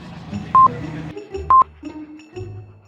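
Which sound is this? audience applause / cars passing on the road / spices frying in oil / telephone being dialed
telephone being dialed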